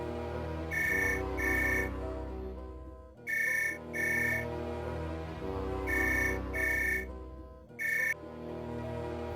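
A phone rings in repeated double trills, four rounds with short pauses between, moderately loud over a faint background.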